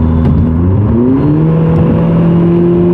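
A Hyundai Genesis Coupe 2.0T with a Depo Racing downpipe exhaust accelerates hard, its engine drone rising steadily in pitch as the revs climb, heard loud and close from inside the car with no talk.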